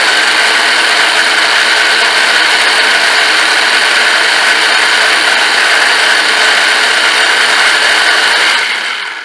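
Carp dough bait ingredients being chopped, giving a loud, unbroken motorized whir that holds steady for several seconds before winding down at the end.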